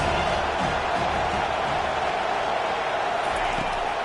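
Stadium crowd noise in a football video game, a dense continuous roar of fans that stays steady throughout, with faint commentary speech mixed underneath.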